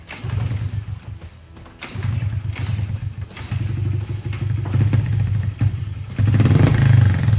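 A 2005 Honda CRF50 dirt bike, just tuned up, runs close by with a buzzy, rattling small-engine idle that climbs into louder revving toward the end, with no talking.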